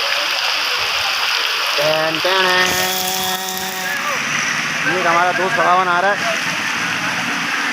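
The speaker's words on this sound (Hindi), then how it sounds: "बहुत ज़बरदस्त बारिश हो रही है।" Heavy rain driven by wind pours down in Karachi, a steady broad wash of water noise running throughout while someone talks over it loudly, with a brief whistly tonal sound in the middle.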